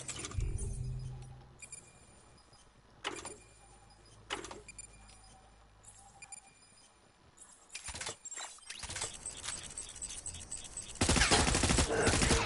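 Gunfire in the video game Death Stranding: scattered sharp shots early on, then denser volleys that build into a loud, sustained barrage at the end over a low background hum.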